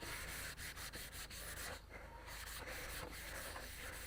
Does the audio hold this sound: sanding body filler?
yes